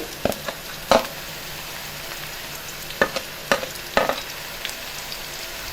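Ginger and garlic fry in a pan for an egg and potato curry, a steady sizzle broken by sharp stirring clicks and scrapes every second or so.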